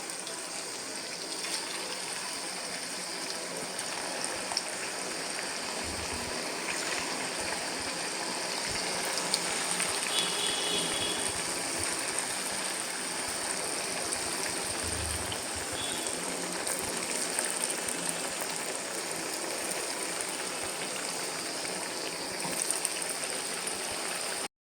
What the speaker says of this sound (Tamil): இதை நம்ம போட்டு பொரிச்சு எடுத்துக்கலாம்